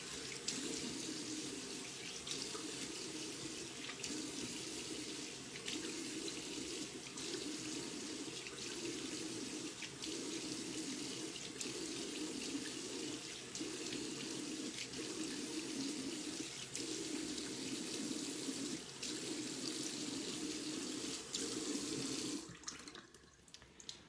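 Tap water runs steadily into a sink for a face rinse, a constant close rushing flow with faint splashes that stops near the end, no voices.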